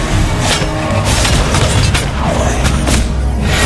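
Turret-destruction explosion in the mobile game Mobile Legends: a series of loud booming blasts and crashing impacts, layered and sustained with several sharp hits.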